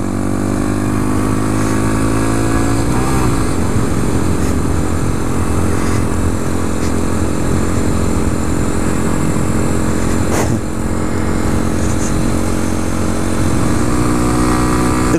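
2014 Honda Grom small motorcycle engine held at wide open throttle while riding, a loud sustained buzzing drone with a brief pitch sweep early on, continuous and close throughout.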